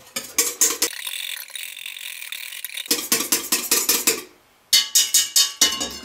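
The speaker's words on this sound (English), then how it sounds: "now you mix this for another 30 seconds until there's no lumps left" An electric mixer whisks royal icing made with cream of tartar and meringue powder, a loud rhythmic whirring and rattling that pauses for a couple of seconds, resumes, drops briefly to near silence, then returns in pulsing bursts.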